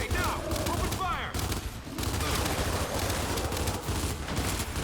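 Sustained gunfire in the video game Gears 5: a dense, continuous barrage of rapid shots with whooshing effects, while voices call out over the din.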